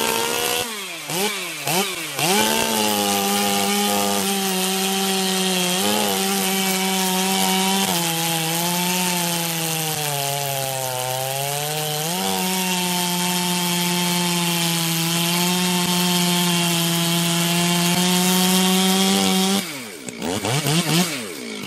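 A ported 70cc Stihl chainsaw cuts through wood at full throttle, a loud, steady, close-up whine that holds with slight dips under load for about twenty seconds before the engine drops off near the end.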